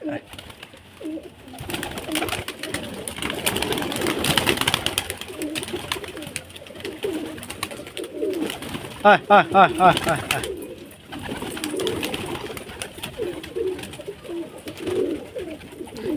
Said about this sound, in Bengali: দেখো সব পায়রা বেরোচ্ছে কেমন